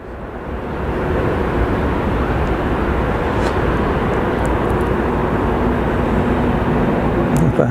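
Saudia Airbus A320ceo airliner at Geneva Airport, a loud, steady roar of jet engines that swells in over the first second and then holds as a broad, unbroken rumble for the rest of the clip.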